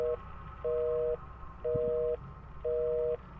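A steady electronic telephone tone beeps on and off in a regular rhythm, four pulses with short pauses between them over a low hum.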